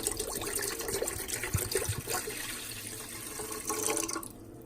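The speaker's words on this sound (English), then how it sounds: "We're going to take the water, spring water, just pour it in there, like so." Spring water pours into a cooking pot, a close, continuous splashing gurgle with scattered drips that stops abruptly near the end.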